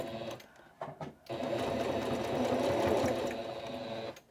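Sewing machine stitching outdoor deck cushion fabric forward and then back over an edge: a few short bursts of stitching, then a steady, close, continuous run of whirring stitches lasting several seconds.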